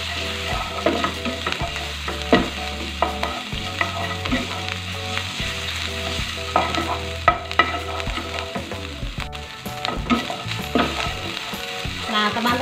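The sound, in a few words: garlic and ginger stir-frying in hot oil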